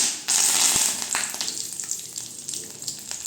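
Cinnamon, cloves and curry leaves hit hot oil with a sudden loud burst of crackling sizzle that settles into a steady spattering hiss with small pops, close by.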